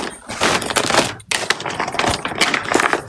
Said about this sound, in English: I want to shuffle this whole basket up.